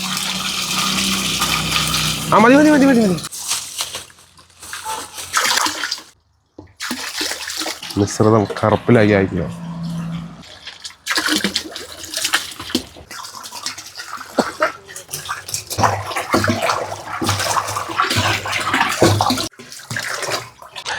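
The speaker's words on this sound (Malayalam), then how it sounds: "അതിലേക്ക് നമ്മൾ 190 ലിറ്ററിനടുത്ത് വെള്ളം ഒഴിച്ചു കൊടുക്കുകയാണ്." Water poured into a 200 litre jar for fermented plant fertilizer, nearly 190 litres, gushing and splashing in long surges broken by brief pauses, with people talking over it at times.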